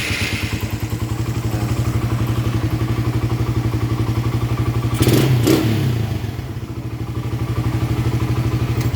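A motorcycle engine fitted with a 28mm Keihin carburetor runs at a close, rapid, even idle pulse, briefly blipped with a rev and clatter midway before settling back to its steady beat.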